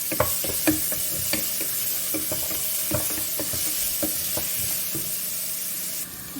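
Chopped onion frying in a pan, a loud continuous sizzle broken by repeated sharp spoon scrapes and stirring knocks, close up with no voices.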